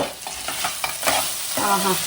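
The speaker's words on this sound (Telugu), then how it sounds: "నెయ్యి వేసి గుమ్మగుమ్మలాడుతా తాలింపు పెడతాను" Whole spices tempering in hot ghee for a dish of dal with raw mango, a steady close sizzle and crackle with a few spoon stirs and scrapes against the pan, no talking.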